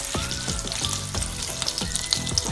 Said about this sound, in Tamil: பட்டரை வந்துட்டு மெல்ட் பண்ணி விட்டுடலாம்.